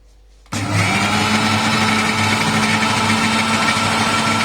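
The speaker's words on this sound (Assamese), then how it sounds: "এতিয়া মিক্সিত গ্ৰাইণ্ড কৰিম" A mixer grinder whirs into loud, steady grinding of cake batter made with refined oil, starting abruptly after a quiet moment and holding a constant high motor drone.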